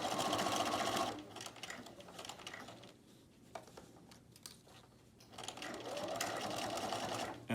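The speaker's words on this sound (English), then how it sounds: "I will continue to sew all the way to the other end of the bias tape" A sewing machine stitching bias tape onto a fabric mask runs in a close, whirring rapid stitch, stops for a few seconds of quiet handling with small clicks, then starts up again.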